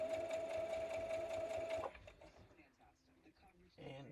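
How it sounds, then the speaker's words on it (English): A sewing machine stitches a quilt block with a steady, close, high-pitched mechanical whir for about two seconds, then stops, leaving soft handling and fabric rustling. "that's when I like to sew fairly slow"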